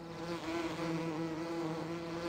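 Game bees swarm around a wooden beehive with a metal lid in Farming Simulator 2017, a steady close droning buzz with a firm pitched hum and no voices.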